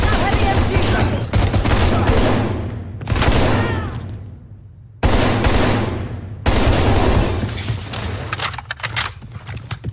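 Heavy machine gun fire in Call of Duty: Black Ops Cold War pounds out in long sustained bursts, loud and close, broken by short pauses, with rattling fire continuing to the end.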